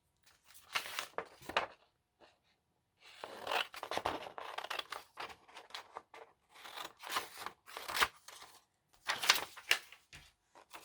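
Paper scissors cutting out a paper figure, with repeated crisp snipping and slicing strokes in short irregular bursts, close and quiet, with brief pauses between cuts.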